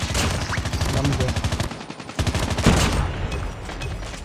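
Quick rattling bursts of automatic gunfire in a Call of Duty Mobile multiplayer Domination match, close and fairly loud, with a brief pause midway before firing resumes.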